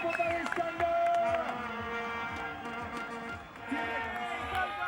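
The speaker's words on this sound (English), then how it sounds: "local star Burry Stander has the crowd and all the noisy vuvuzelas right on his side" A crowd cheers with droning vuvuzelas at a UCI cross-country mountain bike World Cup race, steady noisy din under a commentator talking.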